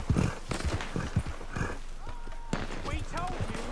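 Horse hooves clip-clop in Red Dead Redemption 2, rhythmic and fairly close, with a person talking over them throughout.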